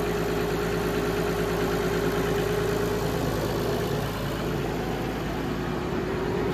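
A 6610 tractor engine, long unused, runs steadily after a reluctant start, a dense, even diesel rumble at moderate distance with no talk over it.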